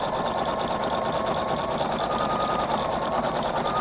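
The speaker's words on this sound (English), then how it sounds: "And I just keep sewing and sewing and sewing until I get to where I want the taper to end." Husqvarna Viking Designer Brilliance 80 sewing machine stitching a decorative tapered satin stitch over appliqué, a fast even mechanical whir with rapid rhythmic needle clatter, steady and close with no voices.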